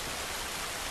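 Steady rain in The Last of Us, a quiet, even wash of broadband hiss with no distinct drops, alone and without voices.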